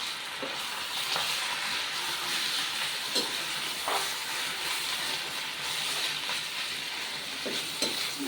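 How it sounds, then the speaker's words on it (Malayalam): Food being stirred in a pan over steady frying sizzle, with periodic scraping strokes of the spoon across the pan surface; moderately loud and continuous, no talking. "നമുക്കിനി ഒന്ന് ഇളക്കി കൊടുക്കാം"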